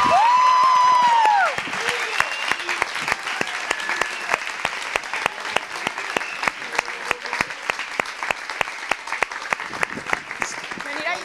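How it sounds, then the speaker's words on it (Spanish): An audience at a secondary school musical applauds steadily, with dense clapping, after a single loud voice calls out over it at the start. "Un fort aplaudiment!"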